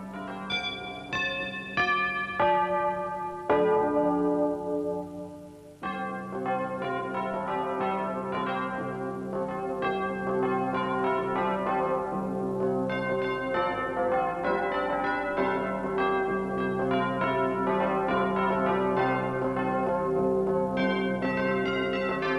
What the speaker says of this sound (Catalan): A on sonen avui les nostres campanes?